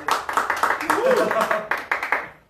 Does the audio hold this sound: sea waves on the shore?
no